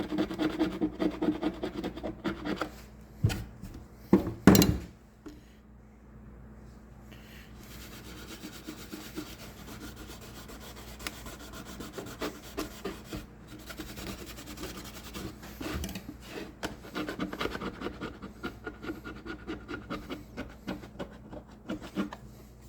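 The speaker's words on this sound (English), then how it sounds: "You throw a little goo gone on there and take her right off with your scraper" A scraper rasps dried residue off a part of a Stihl BR600 backpack blower after a solvent is applied, with intermittent close rubbing and scratching strokes and a couple of sharper knocks early on.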